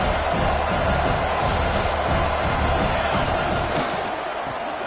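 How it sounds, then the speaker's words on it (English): Loud, steady roar of a college football stadium crowd at a UTSA versus FIU game, pushing the defense in the red zone, a dense, sustained wall of cheering with no clear speech. "This crowd is trying to inspire this defense to make a big red zone stop."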